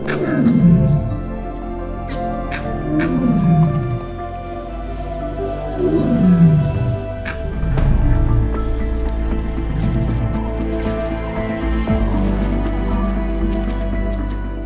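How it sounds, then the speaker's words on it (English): A huge dominant male Bengal tiger roars in the Kanha jungle of India, a series of deep, rumbling moaning roars repeated every couple of seconds, loud and very close, with no talk. "it's hard to describe the feeling of hearing a tiger roar from a few meters away"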